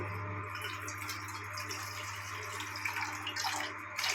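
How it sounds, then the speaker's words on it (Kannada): Water is poured into a metal milk-boiling pot, a faint steady trickling splash running continuously over a low background hum, growing slightly fuller toward the end. "ನೀರು ಹಾಕ್ಕೊಳ್ಳೋಣ"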